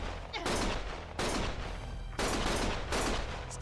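Four loud bursts of gunfire from the video game Lost Judgment, each a sharp blast with a noisy tail. The bursts come about a second apart, and no one speaks.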